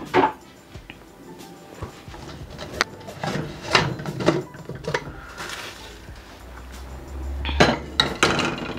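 Pressure cooker of boiled chana dal being opened in a home kitchen, with a series of close metallic clinks and knocks of the lid and utensils, scattered irregularly over several seconds with no talk.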